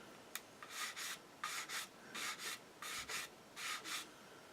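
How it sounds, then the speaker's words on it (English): Repeated rhythmic rasping strokes of an 800-grit sander on an Eduard Spitfire scale model, about eight short bursts in a steady back-and-forth pattern, close and moderately quiet. "So I shall grab my 800 grit sander."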